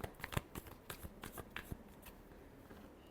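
Tarot cards are shuffled by hand in a quiet room, a quick run of soft riffling snaps and flicks at irregular intervals, close and alone.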